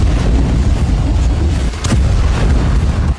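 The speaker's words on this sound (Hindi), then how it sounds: "पहले भीषण गोलीबारी हुई, फिर इमारत को उड़ा दिया गया।" Heavy gunfire and a blast tear through a building being blown up in Samaria, captured in news footage: a loud, continuous roar of booming shots and explosions with one sharper crack near the middle.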